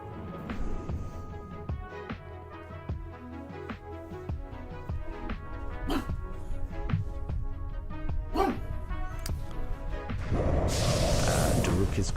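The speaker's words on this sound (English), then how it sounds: "Daruk is currently barking." Daruk the dog barks in a Pokémon Dynamax Adventures game session, sharp repeated barks and yips scattered through the passage over game music and talk, with a louder noisy burst near the end.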